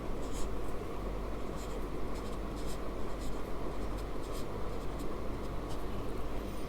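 Steady scratching and tapping of chalk or marker on a board during a math lesson on factorizing numbers, continuous close strokes filling the whole stretch with no voice.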